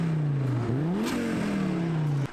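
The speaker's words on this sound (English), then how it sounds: "here's a 5-cylinder turbo swapped Volvo." A turbocharged five-cylinder Volvo drift car engine revs loudly and close at a drifting event, its pitch dipping, climbing and settling back across a single sustained run before cutting off abruptly.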